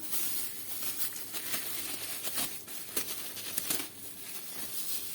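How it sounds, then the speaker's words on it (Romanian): Soft, steady crinkling of a plastic bag being handled close by as dough is put into it, with light rustles and no talking. "Îl vom lua și îl vom transfera într-o pungă."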